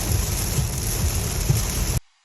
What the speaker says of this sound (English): It's a little bit rainy, so we are spinning away here.